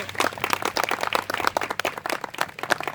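Applause at an outdoor inauguration of a new playground, a steady patter of many hands clapping at moderate distance, with no voices over it.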